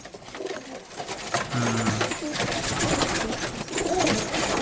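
Turkish posta pigeons coo softly, a low throaty call near the middle, over a busy backdrop of rustling and other bird sounds.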